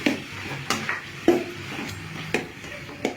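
Spoon stirring and sautéing chili powder into tomato curry in a pan, scraping clinks at a steady pace over a faint sizzle, close and alone.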